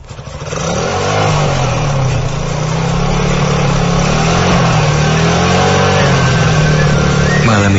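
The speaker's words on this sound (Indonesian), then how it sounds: "Aku pun naik motor itu." A motorcycle engine starts and runs steadily, loud and close, with a sustained low drone and slight pitch wavering, no talk over it.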